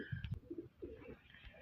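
Punjabi pigeon, a small-headed, slender-necked hen, giving a few soft low coos up close, the calls short and muffled with faint background noise.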